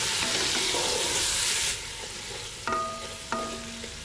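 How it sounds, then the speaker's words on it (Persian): Chicken thigh being stirred and fried in oil with garlic and onion in a pan for broccoli soup, a loud steady sizzle that drops off partway, then a couple of clinks of a utensil against the pan. "گوشت را همراه سیر و پیاز روغن تفت میدیم"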